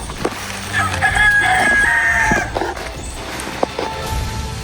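A rooster crows nearby, one drawn-out call standing out over farmyard clucking and rustling, with a few short sharp knocks afterward and no speech.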